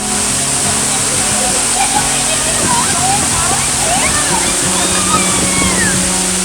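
Mallela Thirtham, a hidden forest waterfall, roars in a loud, steady rush of crashing, foaming water close by, with faint voices barely rising above it.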